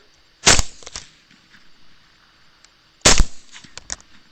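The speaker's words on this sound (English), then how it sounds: "I settle it properly and drop that one." Two sharp, loud rifle shots ring out during a hog hunt, about two and a half seconds apart, each followed by a short echoing tail across open ground.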